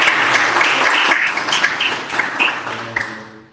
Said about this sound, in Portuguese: Então, de uma salva de palmas.